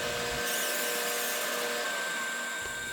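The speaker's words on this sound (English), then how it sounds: "Then the end of the rod is faced off for a clean starting point." A lathe faces off the end of an acrylic rod, giving a steady, close whirring hiss of cutting that runs through the whole stretch with no talking.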